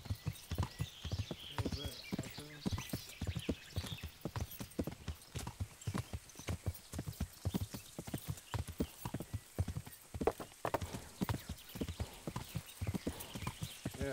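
Horse hooves clip-clop at a steady walking rhythm along a road in Kingdom Come: Deliverance, close and continuous, with an occasional whinny.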